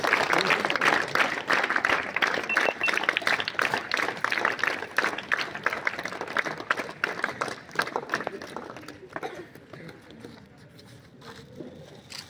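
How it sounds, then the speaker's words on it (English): Audience applause at a Navodaya school alumni celebration, a dense, loud crowd clapping that holds steady for several seconds before thinning out and fading toward the end. "Give a big round of applause."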